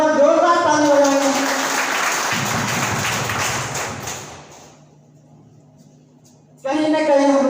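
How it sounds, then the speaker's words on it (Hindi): Audience applause for an honoured teacher at an RCM marketing meeting in Sangrampur, a burst of clapping under a voice that fades to quiet after a few seconds before speech returns. "आदरणीय टीसी सर के सम्मान में जोरदार ताली बजाएंगे।"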